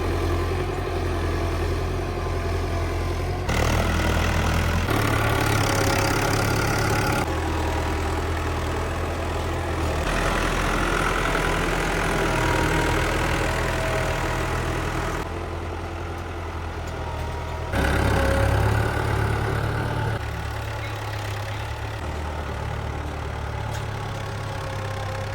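A diesel tractor idles in a farm field, a steady loud low rumble that holds for the full stretch, shifting slightly in tone every few seconds, no talking.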